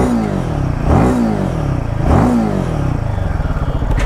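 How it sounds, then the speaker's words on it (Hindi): A Royal Enfield Himalayan 450 motorcycle engine revs up close, rising in sharp blips about every second from a lumpy idle, with a throbbing, pulsing exhaust between the revs. "देखना मैं रेव करूँगा ना तो ऐसे ऊपर जाएगा।"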